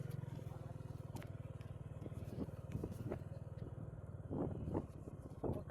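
A motorcycle ride on a dry day with no rain, the engine's steady low drone carrying through the whole stretch alongside rushing wind and a few scraping bumps, with no talk over it.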